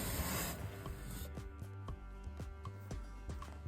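Wax is rubbed onto the wooden sides and bottom slides of dresser drawers, making faint scratchy rasping strokes that repeat in a fairly regular rhythm, close and quiet.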